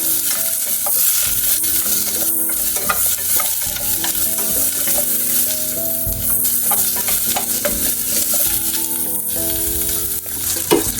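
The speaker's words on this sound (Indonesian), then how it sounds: "pertama-tama ini masukkan dulu si bawang bombay sama bawang putih ya. Ini ditumis dulu." Chopped onion and garlic sauté in a hot pan with a loud, continuous sizzle, broken by frequent utensil scrapes and light clinks as the mix is stirred throughout.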